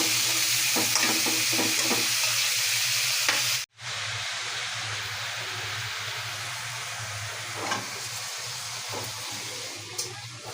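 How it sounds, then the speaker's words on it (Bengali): Fish, tender vegetable stems and peeled potatoes frying in hot oil in a pan, a steady close sizzle with crackles, one brief cut-off in the middle and no talk. "এখন আমি ভাজতেছি, ভেজে তরকারিটা বসাবো।"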